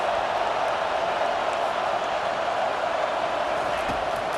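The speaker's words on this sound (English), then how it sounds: "Listen to this crowd just shaking the girders of this place, trying to help their defense." A dense, steady roar from a packed stadium crowd in the College Football 25 video game, loud and unbroken for the whole stretch.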